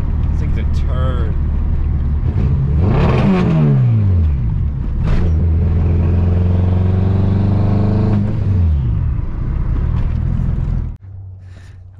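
A misfiring AWD Honda Civic fitted with an S2000 cluster revs under acceleration in loud, close sweeping pulls that climb in pitch between steadier stretches, then cut off abruptly near the end.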